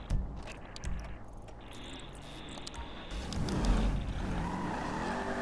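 A car drives in Grand Theft Auto V, its engine humming steadily near at hand with tire squeal and a rising surge of revving toward the end.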